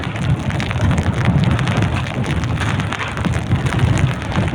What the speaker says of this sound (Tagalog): Naulan, master.